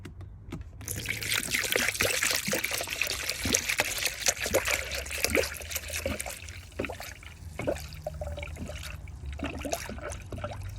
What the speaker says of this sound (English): now we're gonna start pouring the Toyota Super Long Life Antifreeze coolant to the funnel